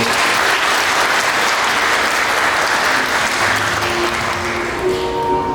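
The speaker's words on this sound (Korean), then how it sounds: "신랑 장기우 네, 박수 부탁드리겠습니다" Guests at a Korean wedding ceremony applaud after the vows, a full, sustained burst of clapping from a crowded hall, with faint musical tones sounding underneath toward the close.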